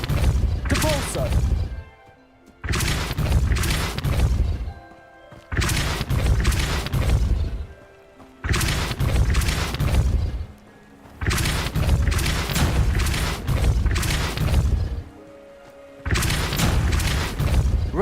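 Depulso spell blasts in the video game Hogwarts Legacy, six loud booming bursts spaced a few seconds apart with short quiet gaps between them.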